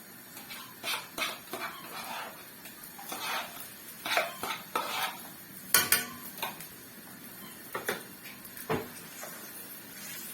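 Blended onions stirred into red palm oil in a pot for Nigerian egusi soup, with a spoon scraping and clinking against the pot in irregular bursts and a faint sizzle underneath, close and fairly quiet.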